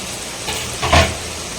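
Paneer cubes sautéing in butter over a high flame, a soft steady sizzle with a brief louder burst of frying and stirring near the middle, close and alone without talk.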